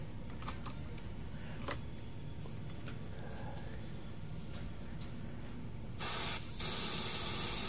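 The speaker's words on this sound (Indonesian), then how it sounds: "Oke, itu untuk suara raster ya, tanpa siaran guys ya. Bunyinya seperti itu." A Toshiba 32-inch LED TV with a dark-screen fault and no broadcast signal gives off faint static with scattered ticks. The hiss swells into a louder, brighter rush near the end.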